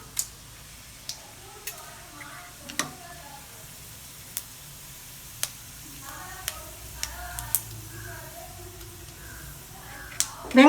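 Cinnamon stick and two bay leaves spit and crackle in hot oil with a light sizzle, punctuated by sharp ticks and pops at irregular intervals and a few soft stirring clinks.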